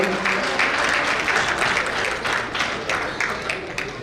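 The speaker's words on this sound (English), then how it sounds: "A round of applause for the captain." Loud, close applause from diners at a cricket club awards banquet as the captain is honoured, dense rapid clapping with a few cheers, swelling and easing slightly over several seconds.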